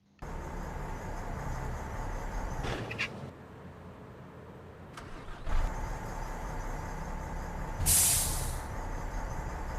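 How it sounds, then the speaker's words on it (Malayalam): A bus engine in the video game Bus Simulator Indonesia starts with a short hissing burst, then runs at a steady idle hum. A sharp air-brake hiss cuts in near the end. "വണ്ടിയുടെ ഓൺ ഓഫ് സൗണ്ടും അതുപോലെ തന്നെ ബ്രേക്കിംഗ് സൗണ്ടും ഹാൻഡ് ബ്രേക്കിന്റെ സൗണ്ടും"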